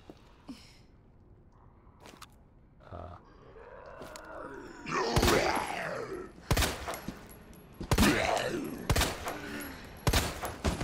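Gunshots ring out in Resident Evil 2, with Claire facing Mr. X: a few sparse sharp cracks early, then a run of loud, widely spaced blasts over a growling creature voice and grunts.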